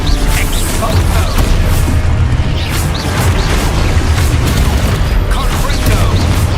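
Exposo explosion spell cast in Hogwarts Legacy, a dense, sustained booming blast with crackling debris over several seconds, loud and close, mixed with game effects.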